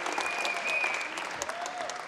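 A crowd applauding at a table tennis event, a dense patter of clapping that carries steadily throughout, fairly loud in a large hall with faint voices mixed in.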